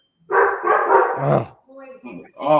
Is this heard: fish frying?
no